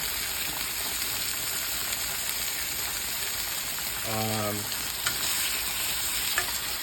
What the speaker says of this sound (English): You get that initial searing going.